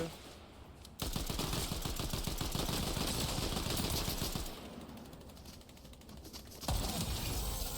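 Video game shooter gunfire: long sustained bursts of rapid automatic fire with a mechanical rattle, a short quieter gap midway, then the shooting resumes loudly.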